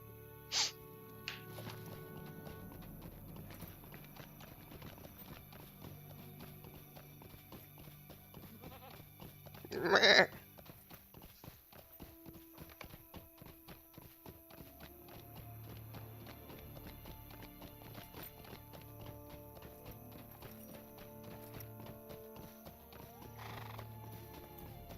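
Horse hooves clip-clopping at a steady pace with a loud whinny midway, from a mount in the online game Lord of the Rings Online (LOTRO), heard alone over faint game ambience.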